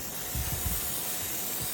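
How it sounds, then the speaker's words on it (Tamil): A can of body spray hisses in a steady, close, continuous burst onto a gold-plated bangle, lasting nearly two seconds with no talking. "உங்களுக்கு வேணும்னா நான் பாடி ஸ்ப்ரே பண்ணி கூட காட்டுறேன்"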